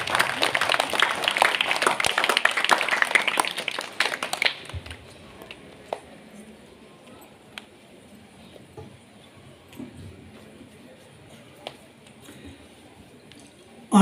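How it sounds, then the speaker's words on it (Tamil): A church congregation claps in dense, crackling applause for about four seconds at the birthday feast of Our Lady of Good Health, then the hall falls nearly quiet apart from scattered faint clicks. "நம்முடைய கைத்தட்டுகளை அவர்களுக்கு கொடுப்போம்"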